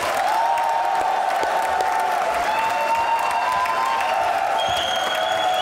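Dense, steady applause from a television studio audience on a Pakistani comedy talk show, loud continuous clapping with some cheering mixed in, sustained throughout without a break.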